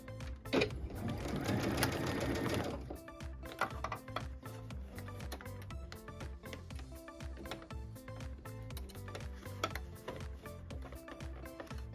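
A sewing machine stitches two fabric pieces of a tablet sleeve together, with a dense rapid mechanical chatter at first, then slower, uneven runs of needle ticks and clacks, close and alone.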